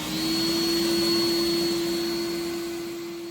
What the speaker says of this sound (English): So you can see that the vacuum turned on and it's working perfectly in this location with this Smart Relay.